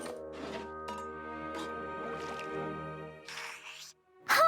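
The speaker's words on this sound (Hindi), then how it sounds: "मुझे थोड़ा पानी पीना है।" A cartoon girl drinks water before bed, a few short wet gulping and dripping sounds near the end over steady background music.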